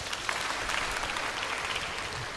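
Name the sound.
round of applause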